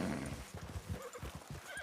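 A horse with four white socks neighs and its hooves clip-clop through snow, close and fairly steady, with no talking over it.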